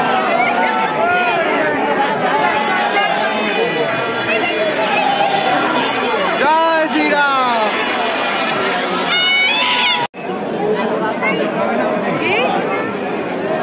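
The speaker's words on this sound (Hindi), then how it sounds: "गजब भीड़ यार" A dense crowd chatters and mills about near the Ram temple pandal in Kolkata, a loud, continuous babble of many overlapping voices close by, with one person speaking over it.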